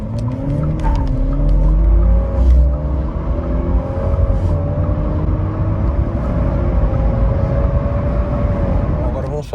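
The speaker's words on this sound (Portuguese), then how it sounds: "agora vamos testar o 0 a 100 com a bateria totalmente cheia" A GWM Tank 300 2026 hybrid SUV accelerates hard from 0 to 100 km/h on a full battery, its engine note rising steadily and loud throughout with road roar underneath.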